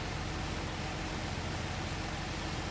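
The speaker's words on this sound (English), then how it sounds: "We'll give it a proper spray down." A pressure washer sprays down a dirty tractor in the Farming Simulator 25 video game, a steady, even hiss of water held at low volume throughout with no talk over it.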